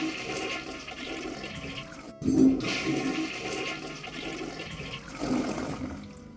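A toilet flushes in the I Have No Mouth, and I Must Scream adventure game: a rushing gurgle of water over low game ambience, with a sharper surge in the middle and another swell near the end.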